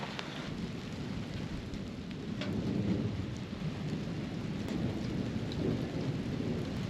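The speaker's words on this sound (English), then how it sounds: "Here comes the rain." Steady rain falls on a farm field during a passing storm cell, with low rolling thunder rumbling underneath and a few sharper drops, heard from a distance at moderate level with no talking.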